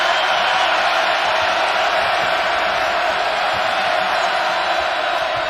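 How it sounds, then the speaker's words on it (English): A packed crowd at a Duke at Clemson college basketball game roars after a dunk, a dense, loud and sustained wall of cheering that holds steady throughout, with a commentator faintly audible under the noise. "listen to this crowd"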